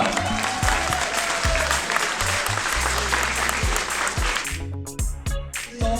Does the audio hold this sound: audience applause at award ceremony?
yes